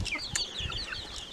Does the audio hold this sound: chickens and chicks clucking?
yes